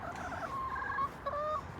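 Chickens picking for bugs and beetles in a square bale of grass give soft, close clucks and drawn-out murmuring calls over a steady outdoor background.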